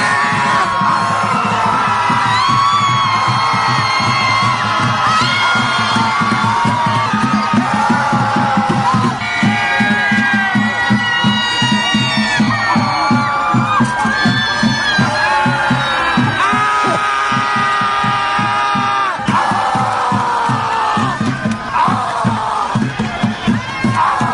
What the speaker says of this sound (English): These insane Trump haters gather to literally scream at the